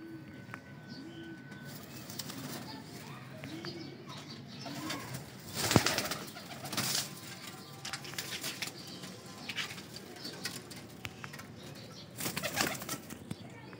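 Baby pigeons coo softly and flap their wings in short bursts, with a few louder flutters standing out over a quiet background; no voices are heard.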